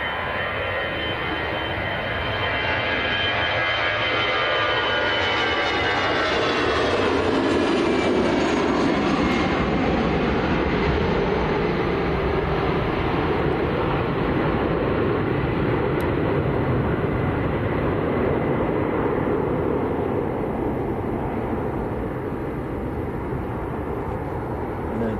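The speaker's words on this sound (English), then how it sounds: "EasyJet on the roll. This is out to Amsterdam." An EasyJet airliner bound for Amsterdam powers along its takeoff roll at Manchester, its jet engine roar building to a loud, sustained rush with a rising whine that slowly fades as it climbs away.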